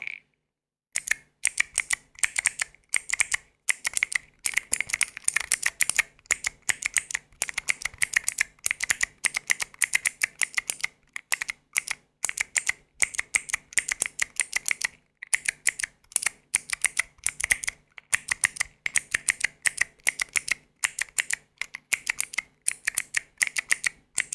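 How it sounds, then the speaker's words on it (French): Close ASMR typing on a computer keyboard, with rapid irregular clicking key taps in bursts and brief pauses, soft and intimate with no voice. "Oui, en effet, c'était le clavier."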